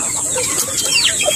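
Native chickens near their nests cluck in short, close, fairly loud calls, a few uneven bursts of bright clucking heard on their own.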